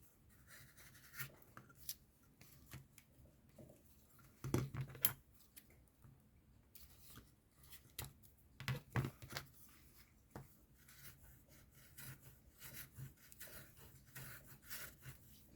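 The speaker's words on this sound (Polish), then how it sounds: "Ten bawer skivers nie jest już jakiś taki bardzo ostry. No, ale radzi sobie z tą skórką, bo ona jest po prostu miękka." A Bawer leather skiver pares thin soft leather in quiet, irregular scraping and rubbing strokes with light taps, close and faint, with no voices.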